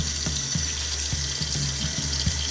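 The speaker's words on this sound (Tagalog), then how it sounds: "Wash your hands with water." Hands being washed under a running water tap, a steady close hiss of flowing water with soft rhythmic knocks and splashes as the hands move beneath the stream.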